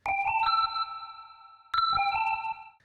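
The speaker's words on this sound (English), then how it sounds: "it sounds like a user interface sound effect from some kind of sci-fi game" Two bright, synthetic pinging tones sound one after another, each holding a clean ringing chord like a futuristic interface alert, with no talking.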